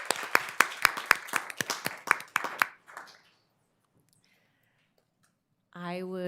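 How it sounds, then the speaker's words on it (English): A board meeting audience claps in a brief run of sharp, distinct claps that fades out, followed by silence and then a voice speaking. "We can all clap again"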